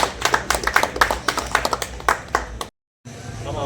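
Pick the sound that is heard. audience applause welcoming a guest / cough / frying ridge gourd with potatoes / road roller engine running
audience applause welcoming a guest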